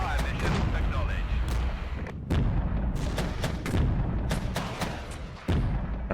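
Artillery from a fire mission in the war game Regiments fires as a rapid series of heavy booming shots, loud and close, with sharp repeated blasts over a rumbling battlefield background and no talking.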